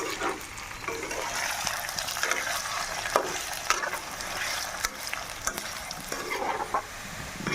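Chicken pieces for pickle frying in oil, a dense continuous sizzle with occasional spoon scrapes and stirring knocks, close and steady throughout.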